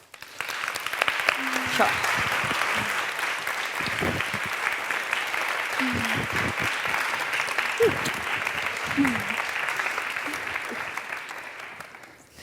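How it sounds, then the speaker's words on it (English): Audience applause at the Cambridge Union debating society, a large hall of clapping building and sustained for several seconds with a few voices calling out over it. "can we have a round of applause"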